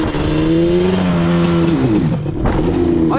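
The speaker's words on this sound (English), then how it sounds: "I'm gonna just slam the brake and stall the bike so you guys can see how well this shit works" A Yamaha Banshee ATV engine revs loud and close in a rising, wavering whine, then the brake is slammed and the engine drops in pitch, sputters and stalls.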